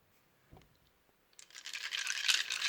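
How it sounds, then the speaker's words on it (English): A handful of about eight dice is thrown onto a dice mat during a board game. One small tap comes first, then a dense, rattling tumble of dice that swells and keeps clattering close by. "it makes a terrible noise, all these dice rolling"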